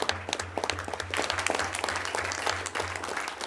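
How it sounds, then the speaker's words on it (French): Scattered applause rises at a French-language municipal council session, individual claps clearly separated and fairly faint, with a repeating low hum running underneath. "on peut applaudir tout le monde"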